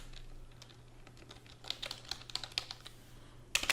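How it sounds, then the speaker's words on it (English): Keys clatter on a computer keyboard while a markdown cell is filled in a Jupyter Notebook, a quiet run of light irregular taps that speeds into denser bursts, with a steady low hum underneath. "let me just first enter a markdown cell and type that comparisons."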